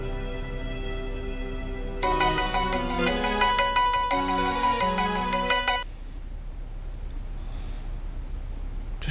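A phone that was left behind rings with a looping electronic melody, starting after a short quiet pause and cutting off partway through, followed by faint breathing and room hush.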